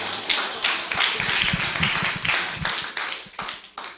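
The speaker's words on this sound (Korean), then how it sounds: "박수 치는 거예요." A crowd claps, the many hands merging into a steady, moderately loud patter that rises and fades over a few seconds.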